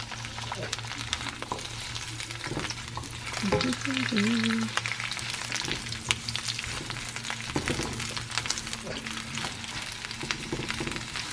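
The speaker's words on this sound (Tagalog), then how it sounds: "I-saute ko muna ito bago ko yan ilagay." Garlic and other food sizzle steadily while sautéing in a pan, a close continuous crackle with occasional stirring scrapes and a brief voice in the background.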